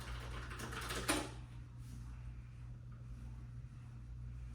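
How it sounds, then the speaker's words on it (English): Keyboard typing beside a quiet under-desk exercise bike, a short cluster of clicks at the start over a steady low hum, then only the faint mechanical drone. "my typing is a lot louder than the bike itself"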